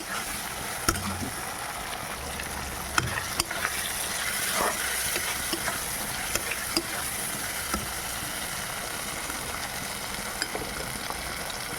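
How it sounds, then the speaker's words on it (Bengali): Shrimp and onion fry together in a pan, giving a steady close sizzle with scattered clicks and scrapes from stirring. "আমি চিংড়ি মাছ আর পেঁয়াজটা একসাথে ভেজে নেবো ভালো করে"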